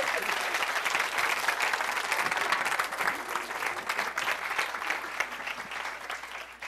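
An audience at a touring science show by The Big Van Theory applauds loudly and continuously, a dense wash of many hands clapping that fills the whole stretch without letting up.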